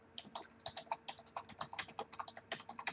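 Rapid, uneven keystrokes clatter on a computer keyboard as HTML code is typed into Notepad++, close and fairly quiet, with no voices.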